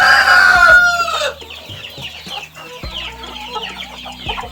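Chickens in a henhouse on an African poultry farm cluck and chatter close by, with a loud crowing call at the start followed by continuous overlapping clucks and squawks.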